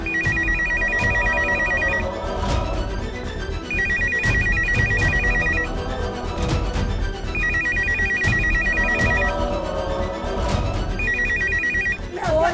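A telephone ringtone repeats in regular bursts, loud and steady, each ring about two seconds with short gaps, over a tense background music bed in a Hindi TV drama scene.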